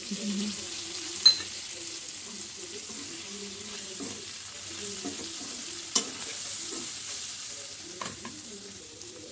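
Chopped ivy gourd pieces sizzle and fry in a pan while being stirred, with a steady crackle broken by a few sharp scrapes and knocks of the spoon against the pan.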